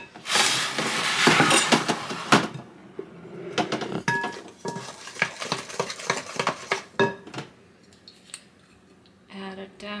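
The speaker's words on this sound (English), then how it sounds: "Stir it up. Squish any remaining chunks." A spoon stirs and squishes mashed banana bread batter by hand in a bowl, with close, busy scraping and clattering against the sides that come in irregular bursts, loudest at first and then thinning out.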